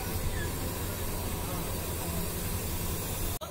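The Tista Express intercity train pulls into Piyarpur railway station with a steady, moderately loud rumbling hiss that runs unbroken until a brief dropout near the end.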